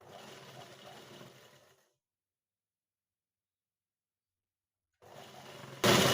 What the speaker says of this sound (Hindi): हमने 1/2 इंच का लिया था तो 1/2 इंच पर हम नीचे तक सिलाई लगा देंगे।